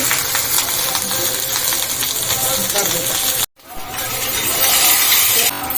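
Cumin, mustard seeds, lentils and green chillies tempering in hot oil for a Sri Rama Navami home meal, a dense steady crackling sizzle that cuts off briefly and then resumes just as loud.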